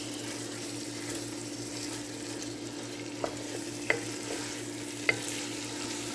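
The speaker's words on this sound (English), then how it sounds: "Break that meat up as you're stirring." Ground meat stirred and frying in a pot over medium heat, a steady soft sizzle broken by a few sharp scraping clicks of the spoon against the pot, close up with no talking.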